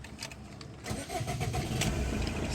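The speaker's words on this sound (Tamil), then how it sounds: "So let me start the car." A Tata Indica Vista Quadrajet diesel engine cranks briefly, catches, and settles into a steady rumbling idle close by, with no talk over it.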